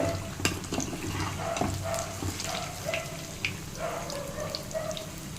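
Bhaji fritters frying in hot oil, a soft steady sizzle with scattered crackles and pops, fairly quiet and close, with faint clinks of a utensil.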